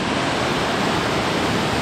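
Waterfall at Cloudland Falls rushing in a steady, loud, broadband roar of falling water, constant and unbroken with no voices.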